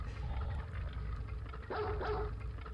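A puppy barks in a video game, a few soft yips and short barks sitting under a continuous loud game ambience.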